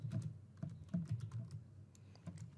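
Fast, steady typing on a computer keyboard, close up with dense rapid key clacks and a few brief gaps, with no one talking.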